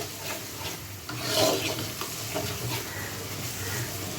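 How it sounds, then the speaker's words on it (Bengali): Ginger and garlic frying with spices in a pan for a peas chicken curry, a steady close sizzle with stirring scrapes and a brief louder swell partway through, no voices. "শুধু আদা রসুনটা একটুখানি কষা নিতে হবে এর মধ্যে।"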